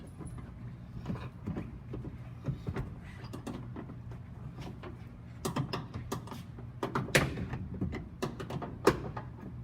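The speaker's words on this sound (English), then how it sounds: "See, you can just pop it out after you remove the screws." A plastic trim panel inside a Nissan NV3500 van is pried and popped loose, a scattered series of near clicks, knocks and snaps that grow sharper and louder toward the end.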